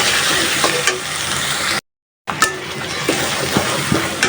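Raw jackfruit frying in hot oil for a village-style curry, a loud continuous sizzle with stirring scrapes, briefly cut to silence midway before the crackling resumes.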